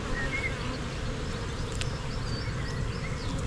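Honeybees drone in an open beehive during an inspection, a dense, steady buzzing that fills the whole moment without pause, close and constant, with no voices.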